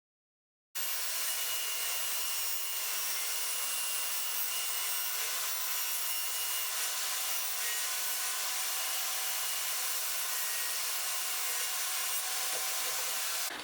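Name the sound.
saw cutting 12mm plywood to width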